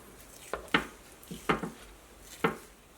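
Spoon scraping and clanking in a slow cooker while a pound of pork breakfast sausage is stirred into flour, four or five distinct close knocks in an otherwise quiet room.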